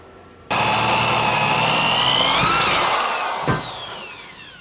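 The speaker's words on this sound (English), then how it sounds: "We're gonna drill a hole for the O2 through this exhaust." A power drill starts abruptly and whines loudly and steadily as it bores an oxygen-sensor hole through a metal exhaust header of a Toyota AE86, its pitch sliding down near the end.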